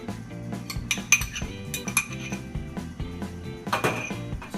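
Utensils clink and scrape against a bowl while mixing an eggplant and cucumber salad with cumin and cherry tomatoes, a steady run of close, busy metallic taps and knocks with no talking.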